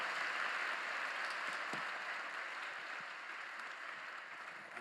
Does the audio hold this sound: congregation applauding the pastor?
yes